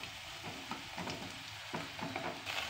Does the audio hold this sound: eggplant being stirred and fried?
yes